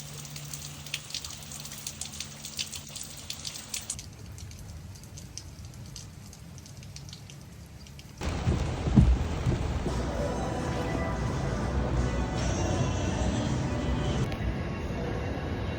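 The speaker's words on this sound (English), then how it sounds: "it's coming down pretty hard in Lubbock right now. Good old monsoon type rain." Heavy monsoon-type rain pours down in Lubbock with a thunder rumble, a steady broadband hiss that grows much louder and fuller partway through and continues without speech.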